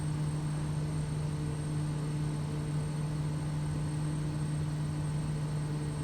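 A Quest Kodiak 100 turboprop in Microsoft Flight Simulator drones steadily and loudly with a constant tonal whine, flying low over Idaho mountain country.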